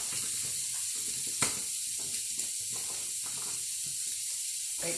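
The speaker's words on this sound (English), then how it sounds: "So I'm going to add the zucchini and the snap peas" Zucchini and snap peas hiss in a hot stir-fry pan for General Tso chicken, a steady sizzle broken by a few sharp pops and crackles, with no talking.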